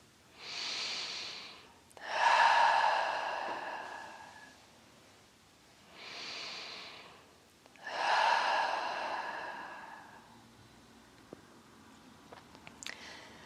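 Two pairs of slow, deep yoga breaths, each a soft inhale followed by a longer, louder exhale, close and alone in a quiet room, with faint rustling near the end.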